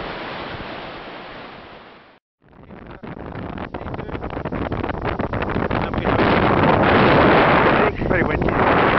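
Strong wind on a trek in the Moroccan High Atlas mountains roars and buffets the microphone in loud, sustained gusts, briefly dropping away before building again.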